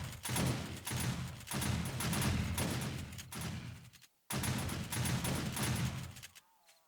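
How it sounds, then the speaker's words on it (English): Automated shotgun turrets in the 7 Days to Die video game fire a loud, rapid fusillade of overlapping blasts that runs in dense bursts, breaks off briefly, then resumes before cutting out at the end. "the shotgun turrets are on. What are they firing at?"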